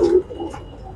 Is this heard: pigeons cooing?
yes